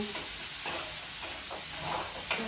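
Spice masala sautéing in a pan, a steady sizzle under several scraping stirs that come as soft swishes at irregular intervals, close and fairly even in level.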